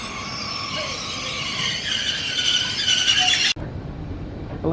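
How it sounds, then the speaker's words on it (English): A train pulling into a station on the line toward Port Bou near the French-Spanish border, wheels squealing in shrill sustained tones over a rumbling roll that cuts off abruptly near the end. "And here comes the train."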